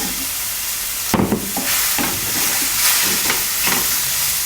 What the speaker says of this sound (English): Stir fry over low to medium heat for a while.